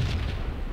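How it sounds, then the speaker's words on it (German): A deep boom rolls through a Max Payne game scene, a dense low rumble that fills the whole moment and stays loud without fading. "Oh, nächste Explosion."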